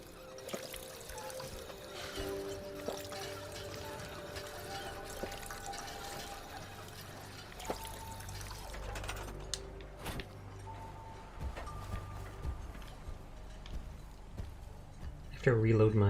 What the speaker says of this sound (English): I swear to dog, I'm constantly hearing water pumping from the water pump